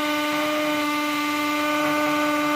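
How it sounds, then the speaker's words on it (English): A power drill fitted with a masonry bit runs continuously on hammer action as it bores into a wall while a Ring Stick Up Cam mount is installed, giving a steady, loud whine with no pauses. "Drilling the first one in, so a little bit of pressure."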